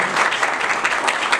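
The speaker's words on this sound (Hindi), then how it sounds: "एक बार इन लोगों के जोरदार ताली बजा दीजिए।" An audience at a university Teacher's Day celebration gives students a loud, steady round of applause, a dense sustained clatter of many hands clapping close by.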